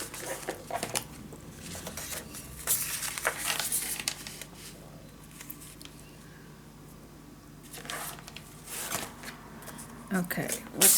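Paper is being cut and handled for a Christmas scrapbook mini album, heard as scattered rustling, crinkling and slicing sounds close up, with a person talking between the cuts.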